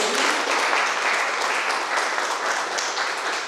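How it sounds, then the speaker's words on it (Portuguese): Steady applause from a crowd, a dense continuous clapping that holds at an even level throughout. "palmas para ele"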